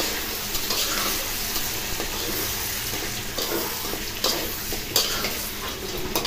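Whole spices (panch phoron, cumin, garam masala, dried red chillies and bay leaves) crackle and fry in hot oil while being stirred, a continuous close sizzle with scattered scraping strokes of the spoon.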